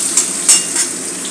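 Eggplant slices fry in a pan of plain hot oil, giving a steady soft sizzle with a few brighter crackling bursts and faint utensil clinks, close by and with no talk.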